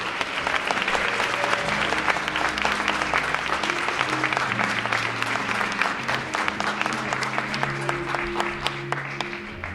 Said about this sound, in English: let's give a big round of applause to our Man of the Year, Eric LeGrand.